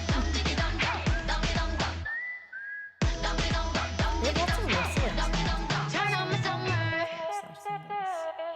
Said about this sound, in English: I like whistle sounds.